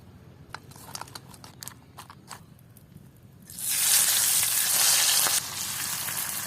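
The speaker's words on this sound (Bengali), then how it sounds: "হলুদ আর নুন দিয়া এই চিংড়ি মাছগুলারে ভালো মতো মাইখা এবারে ভাজ্যা নিব" Shrimp rubbed with turmeric and salt hit hot oil in a pan, bursting into a loud, dense sizzle halfway through. Before that come a few quiet clicks and taps. The hiss stays strong and close to the end, with no talking.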